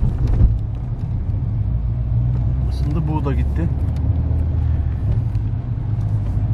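A Fiat Tipo MPI engine on a test drive after an engine rebuild with new piston rings and a replaced cylinder head, a steady low rumble from inside the moving car, with someone talking over it.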